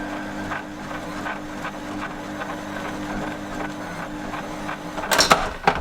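Electric stand mixer kneading bread dough in a bowl, a steady mechanical motor hum with faint rhythmic thumps, ending in a brief louder clatter.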